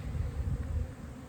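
Honey bees buzz around hive boxes packed full of bees on a sunny day, a low, wavering drone close by that swells and fades over a brief moment with no voices.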